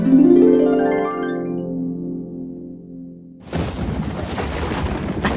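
Thunder from a storm in a read-along fairy tale opens with a long rolling rumble that fades, then breaks into a loud, crackling burst, heard alone without narration.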